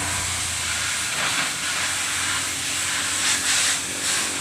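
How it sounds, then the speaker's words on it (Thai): Water sprays onto a car in a continuous broad hiss from a pressure nozzle, steady throughout with slight surges, no voices heard. "เพิ่นก็ได้ฉีดน้ำแล้วนะครับเนาะตอนนี้"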